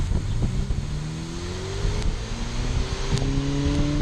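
A 2023 Ferrari F8 Spider convertible accelerates past about 4,500 RPM as its exhaust valves open, the engine note climbing steadily in pitch under a loud, constant roar of road and wind noise, with no talking.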